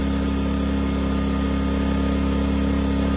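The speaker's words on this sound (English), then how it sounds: "Come to use it, and it will start up just like this. My generator's back, all fixed." A Westinghouse iGen2500 generator, freshly repaired after a carburetor fix, runs at a steady idle with a loud, even engine drone and a constant low hum throughout, with no voices.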